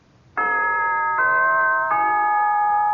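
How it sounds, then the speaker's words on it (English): The NBC chimes ring out as three clear, sustained bell-like tones in succession, each note ringing on into the next, heard alone against a faint background hiss. "Now, here's a holiday wish from the NBC Chimes."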